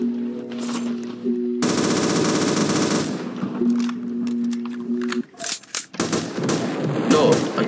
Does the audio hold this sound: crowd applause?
no